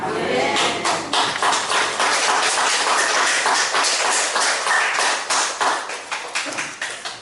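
A church congregation claps in rhythm after a hymn, with steady sharp claps close and loud throughout, tapering slightly near the end.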